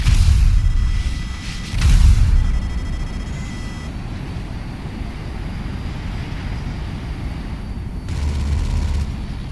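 Heavy booming cannon fire from a B-11 aircraft in a Rockstar video game, loud blasts at the start and end with a continuous jet engine roar in between, and no talk.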